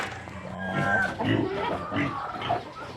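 Pigs at a livestock market during a hot-day purchase, grunting and squealing close by in several short bursts, with a faint murmur of background voices.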